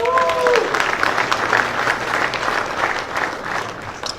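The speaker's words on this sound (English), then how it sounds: "Let's give these guys and gals a round of applause." An audience at a motorsport trade show event claps in a sustained, lively round of applause, with a brief whistle at the start and some voices mixed into the crowd.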